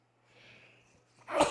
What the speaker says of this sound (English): Excuse me once again, I'm going to sneeze